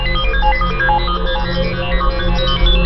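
A phone ringtone plays steadily as a looping electronic melody, loud and close, muffled as if from inside clothing, with no talk over it.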